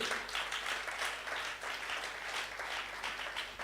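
A church congregation applauds during a French-language worship service, a steady, dense wash of many hands clapping that holds evenly throughout with no talk over it.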